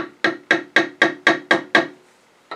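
Seven sharp wooden knocks in an even, quick rhythm as a turned wooden egg is tapped free of a lathe chuck, then a short pause and one more tap, close and clear.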